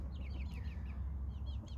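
Chickens and a rooster cluck in a poultry run, with a series of soft, quick, chirpy calls over a steady low rumble of background noise, fairly faint and slightly distant.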